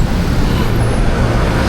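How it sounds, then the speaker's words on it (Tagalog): Heavy night traffic at a crossing near a Manila bridge, a loud, continuous rumble of cars, buses and trucks passing close by, with no pauses. "Sobrang traffic sa crossing."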